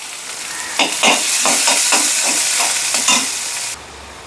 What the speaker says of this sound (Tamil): வெங்காயம் 2 நிமிஷம் கலர் மாதிரி வதங்கி வரட்டும்